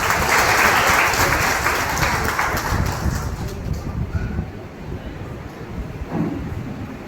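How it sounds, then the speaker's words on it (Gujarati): A community gathering in Porbandar welcomes guests who travelled from Prayagraj with loud, sustained clapping from a big crowd that gradually thins and fades toward the end. "સૌથી પહેલા એને આપણે તાળીઓથી વધાવીએ।"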